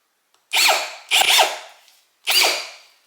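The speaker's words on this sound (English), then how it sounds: "So now let's go ahead and drill some holes." A power drill whirs in three separate bursts, each rising and then winding down, with short silent pauses between them.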